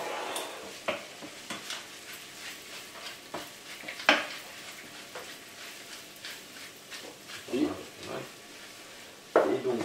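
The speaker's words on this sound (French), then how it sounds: "Et donc on va la faire mijoter." A pot of beef tongue hachis parmentier filling simmers as a spoon stirs it, soft scraping and bubbling with a few louder clinks of utensil on pot, under intermittent nearby talk.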